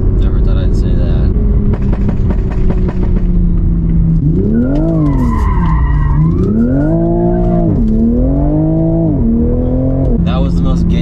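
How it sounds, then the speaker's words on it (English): A Toyota Supra revs and its tires squeal through a U-turn and hard takeoff, the engine note rising and falling in sweeping pitch changes, loud and close, with speech mixed over the top. "That was the most gangster U-turn and takeoff I've ever had"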